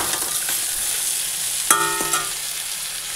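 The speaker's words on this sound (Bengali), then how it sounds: "আমার মাছের ঝোলের সবজি ভাজা হয়ে গেল" Vegetables for a fish curry frying in a pan, a steady soft sizzle with a couple of sharp metallic clinks from a utensil stirring against the pan.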